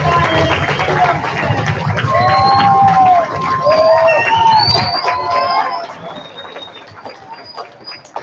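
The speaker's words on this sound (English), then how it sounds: "Let's give a round of applause as we welcome our keynote speaker" A crowd at a YMLA Veteran's Day event cheers and whoops to welcome the keynote speaker, loud shouts and high calls rising over a bed of clapping, then thinning into scattered cries as it fades.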